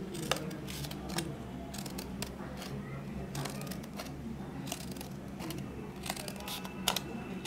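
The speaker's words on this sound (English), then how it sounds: "you have to make thin cuts with scissors like we made for the trees and the plants" Scissors snip thin cuts into paper for a paper sculpture, making quiet, crisp, irregularly spaced clicks and slices close by with no talking.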